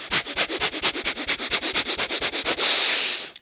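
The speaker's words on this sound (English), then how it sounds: "Maybe a little Bastrika breath." Rapid, forceful nasal breathing of Bhastrika bellows breath in a yoga session, about twenty quick rhythmic pumps close to the mic, ending in one long drawn exhale.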